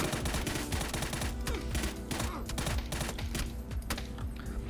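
Dense, continuous gunfire in the battle royale game PUBG, rapid overlapping shots and bursts, loud and sustained throughout, with no talk.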